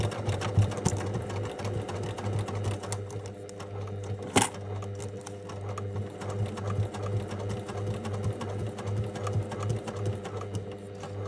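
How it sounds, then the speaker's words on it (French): A sewing machine stitches along a bias-binding seam on a personalised embroidered health-book cover, running as a steady, close mechanical whir with rapid needle ticking and one brief sharp knock partway through. "J'essaie vraiment de bien coudre droit sur la couture qui est déjà présente au biais"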